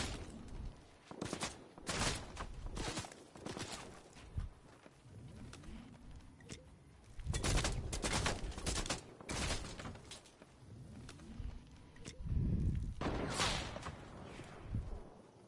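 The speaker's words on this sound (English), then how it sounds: "That's my minigun!" Minigun fire in a video game: repeated bursts of rapid, crackling gunfire that rise and fall in loudness across the stretch, with brief gaps between volleys.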